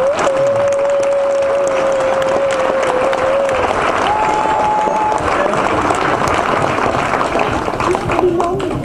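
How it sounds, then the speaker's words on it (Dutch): A crowd applauds steadily and loudly throughout, with a high tone sounding over the clapping at times. "Dus heel graag een hartelijk applaus."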